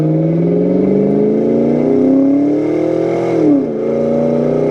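A 2004 Ford Mustang Mach 1 accelerating hard under throttle, its loud engine note climbing steadily through the revs, dipping briefly at a gear shift near the end, then pulling again.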